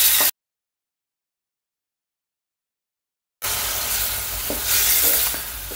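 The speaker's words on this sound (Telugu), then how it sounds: "ఇప్పుడు ఇందులో వేసేసుకొని వాటిని కొంచెం సేపు రోస్ట్ చేసుకుందాం." Paneer cubes roast in a hot pan, giving a loud, close, hissing sizzle with faint stirring scrapes that starts after a short silent gap.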